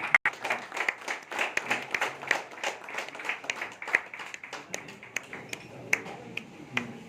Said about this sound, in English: Let us all rise up and welcome Father Manoj Jose with a huge round of applause.